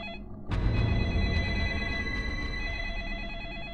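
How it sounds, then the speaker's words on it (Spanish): Telephone ringing in the video game Deadly Premonition Origins, a loud electronic ring bursting in suddenly and repeating in steady pulses over a dense game background. "¡Ah! ¡Teléfono!"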